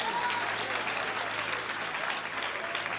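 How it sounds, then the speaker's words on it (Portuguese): A church congregation applauds in a continuous, dense wash of clapping, steady and moderately loud throughout. "Os que podem, tomem o seu assento aplaudindo a Jesus"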